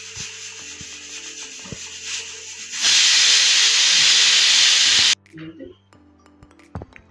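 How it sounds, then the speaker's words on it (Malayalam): A kitchen pressure cooker letting off its whistle, a loud continuous steam hiss that bursts in over quieter kitchen background and cuts off after about two seconds, followed by faint clatter. "കുക്കർ ഒരു വിസിൽ"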